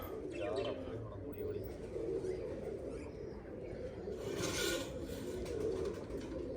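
Pigeons coo in a loose, continuous murmur around a rooftop loft, soft and steady with faint chirps mixed in, no voices in the foreground.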